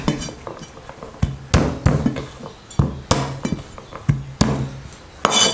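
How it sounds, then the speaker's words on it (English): Garlic cloves bashed with a blade or heavy utensil on a board while making a Chinese pepper steak sauce: a series of sharp, close thuds and clinks at an uneven rhythm, about a dozen hits, with no voices. "Bash a few cloves of garlic."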